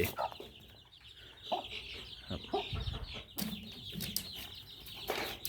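Several chickens cluck and chatter nearby in irregular bursts, with rustling and shifting movement in the background and no one talking.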